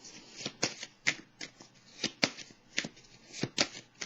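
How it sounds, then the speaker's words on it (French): Tarot cards shuffled by hand in a quiet room, a steady run of crisp riffling slaps and flicks with short pauses between bursts, close and clear with no talking. "Je vais piger une petite carte pour mettre sur celle-ci"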